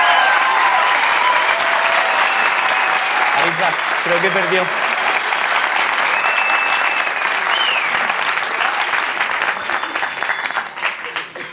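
Audience at a live comedy show applauds loudly and continuously, a dense roar of clapping with brief talk and a voice over it, fading slightly near the end.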